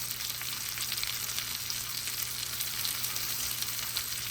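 Rainbow trout fries in a pan with steady, dense crackling and sizzling that holds even and close throughout, with no voices over it.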